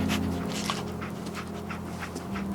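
A dog in the Fallout 4 video game pants steadily in quick breathy puffs, close and moderately loud over a low background hum, without speech.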